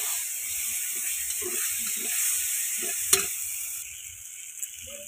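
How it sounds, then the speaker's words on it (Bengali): Chili and turmeric frying in oil on a village home stove give a steady close sizzle, with soft stirring scrapes and one brief sharp clink near the middle before the hiss eases. "তেলে লঙ্কা হলুদটা ভালো করে ভাজা হয়ে গেছে"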